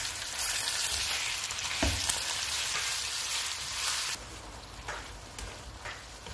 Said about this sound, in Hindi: 750 ग्राम बोनलेस बीफ डालेंगे। चूल्हे को फुल रखेंगे और इसको 3 से 4 मिनट तक भूनेंगे।